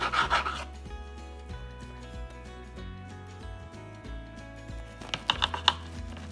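A knife saws through hot, crusty sourdough bread with crackly, rasping scrapes. The crust crunches in a burst at the start and again in quick crackles near the end, with quieter rubbing strokes between.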